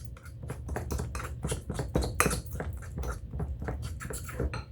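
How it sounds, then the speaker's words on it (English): A spoon stirs a cooking pot just after salt is added, giving a steady run of light scraping and tapping strokes at close range with no talk. "And I'm going to stir again."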